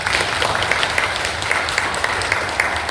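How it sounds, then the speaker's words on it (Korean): Church lecture audience applauding to welcome a pastor to speak, a steady, moderately loud round of clapping from a seated crowd with no talking over it. "박수로 모시겠습니다."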